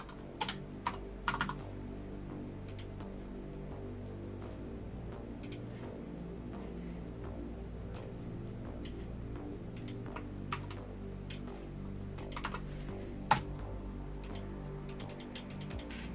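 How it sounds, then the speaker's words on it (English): Steady, rapid typing on a computer keyboard, close and dry, with continuous clicking keystrokes and a few sharper taps over a low background hum, with no talk. "Just type it in again."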